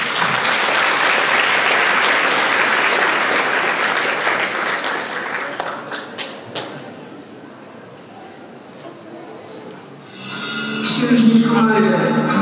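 Applause from the audience at the Animatsuri 2023 cosplay contest. A loud, dense burst of clapping fades out over several seconds into murmuring crowd noise, then a new sound rises near the end.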